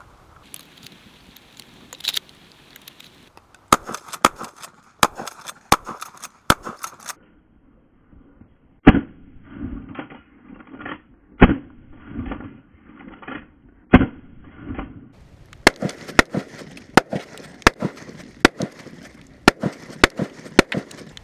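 A shotgun loaded with birdshot is fired at a TV, a series of sharp, close blasts and cracks with rattling debris between them, some shots spaced out and others coming in quicker bursts.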